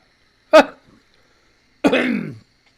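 A single short cough, then after a pause a longer, raspy throat clearing, both close and loud against silence.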